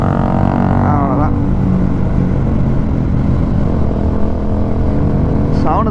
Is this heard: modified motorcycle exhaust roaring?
yes